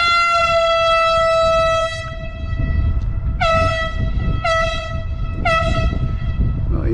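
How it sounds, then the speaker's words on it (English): A loud, tonal horn from a nearby vessel sounds in long, sustained blasts, followed by three short repeated toots over steady rumbling background noise. "He's got a loud horn"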